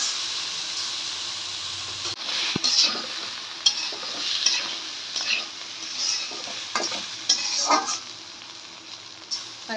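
Rice sautéed in mustard oil for vegetable khichuri, a steady sizzling hiss with repeated scraping and clinking of a spoon stirring against the pot, fairly close and without talk.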